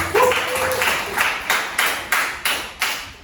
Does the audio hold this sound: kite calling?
no